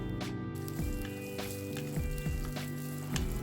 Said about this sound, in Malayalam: ഇനി ഇതിലേക്ക് ഫ്രൈ ചെയ്ത് വെച്ചിരിക്കുന്ന പാവയ്ക്കയും കൂടെ ചേർത്ത് ഒന്ന് മിക്സ് ചെയ്തെടുക്കാം